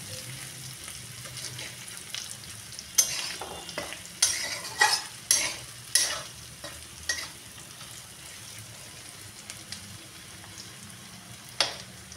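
Potatoes frying in a pan, a low sizzle beneath a cluster of sharp scraping stirs and clinks, then quieter frying with one last scrape near the end.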